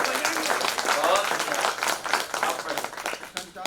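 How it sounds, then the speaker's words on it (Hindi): Audience at a Hindi poetry session in a museum hall clapping together in a dense, sustained burst of applause, fairly close, with a voice speaking over it. "जोरदार ताली।"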